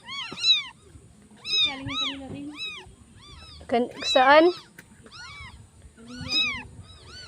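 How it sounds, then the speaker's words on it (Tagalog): Small white kittens, four of them, mew repeatedly in high thin cries, close and clear, while a person speaks briefly between the calls. "Pusa."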